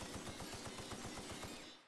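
Rapid automatic gunfire from a gun in The Outer Worlds, a steady burst of evenly spaced shots lasting under two seconds and ending abruptly, loud and alone with no talk.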